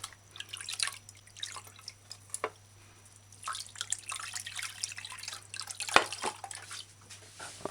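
Fresh running tap water used for a final rinse while making a spirulina condensed milk drink: a steady, light splash and trickle with scattered sharper drips, fairly quiet and close, with no talk.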